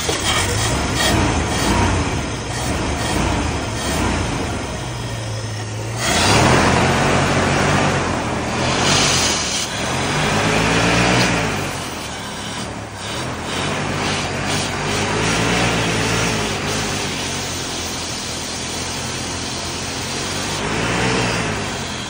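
A 1982 Ford F-150 engine revs hard in repeated surges to clear its carburetor, rising and falling several times, loud and rough with no talking.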